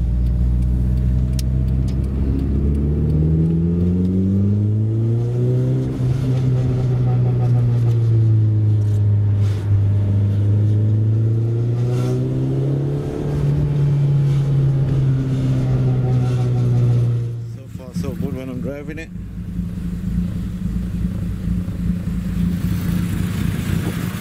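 A Nissan Pulsar GTI-R drives on a test drive: the engine hum rises and falls through gear changes, steady and close inside the car, with a brief rattling disturbance near the end.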